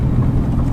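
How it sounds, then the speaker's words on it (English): A 2018 Mercedes-AMG GT C Roadster exhaust rumbles low and steady on overrun while driving at slower speeds, a close, continuous burble with soft puffs and no talking. "Some puffs from the exhaust on the overrun."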